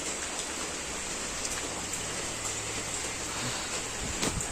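Steady rain falls outside a house in a courtyard that is collecting water, a soft, even patter close by with a few louder drips and a low hum underneath, and no one speaking.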